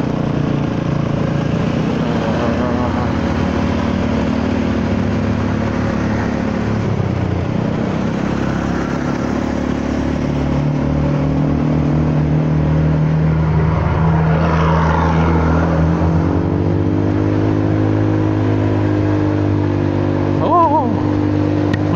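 A Honda Forza 300 scooter's engine and exhaust drone steadily and loudly nearby, the pitch rising and falling as it revs on a road, with a voice talking over it.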